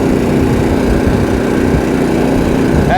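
A Honda HSS724A snowblower engine runs steadily while the machine creeps slowly in reverse, a loud, even small-engine drone with no break throughout.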